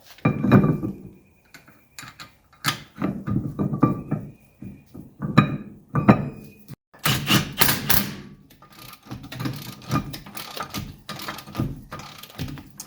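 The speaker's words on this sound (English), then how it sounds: "So now we're going to remove these crusty old calipers here and get some new calipers on here." Old, crusty brake calipers being removed from a 1979 Mercedes 300SD, heard as irregular close metallic thuds, knocks and clanks of tools and parts, with short gaps between bursts and no talking.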